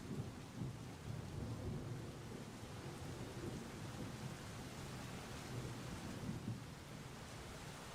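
Steady rain hisses down while low, rolling thunder rumbles underneath in a soft, distant wash, with no voices and no break throughout.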